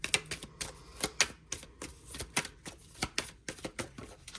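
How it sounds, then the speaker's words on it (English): Rapid riffled clicks and flutters of cards being shuffled, repeated in quick crisp bursts, close and fairly quiet. "And now they want me to shuffle for this one here."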